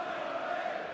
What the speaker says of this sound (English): Big crowd getting behind the big Dutchman.